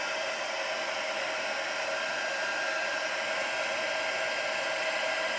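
An embossing heat tool blows continuously over stamped cardstock while setting embossing powder, a steady, even, close whooshing hum with no pauses.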